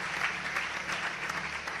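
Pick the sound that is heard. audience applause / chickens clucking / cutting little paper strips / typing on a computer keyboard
audience applause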